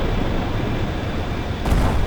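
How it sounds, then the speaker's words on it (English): An explosion in the video game Carrier Command 2 booms out of a loud, rumbling wash of battle noise, with a sharp blast near the end. "I do like the explosions in this game"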